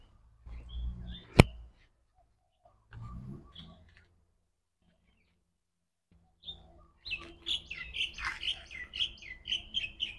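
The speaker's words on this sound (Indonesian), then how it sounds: "Ada burung terbang atas tu." Birds chirp near a dragon fruit farm, rapid high tweets that build into a busy run of calls in the second half, preceded by scattered rustling and a sharp click outdoors.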